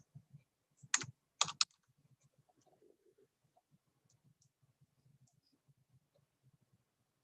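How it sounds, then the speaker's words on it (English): A computer keyboard is typed on while an income amount is entered on a benefits application, with a few sharp key clicks early and then faint, sparse tapping in a quiet room. "So you'll type in however much money you made for the month."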